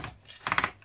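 A 1937 Remington Home Portable typewriter types a few keystrokes, a quick cluster of sharp mechanical clacks close by after a brief quiet gap, with no talk.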